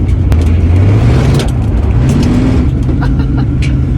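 A 1965 Ford Mustang engine runs steadily up close on the street, its low rumble rising and falling in pitch as it revs through gears, loud and continuous.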